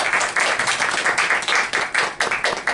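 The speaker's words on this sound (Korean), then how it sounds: "우리 큰 박수로 맞아주시기 바랍니다" A room full of people applauds to welcome a guest speaker, a POSCO research institute executive, at a Korean seminar on emissions trading. The clapping is dense and steady and pulses in waves that carry through the whole stretch.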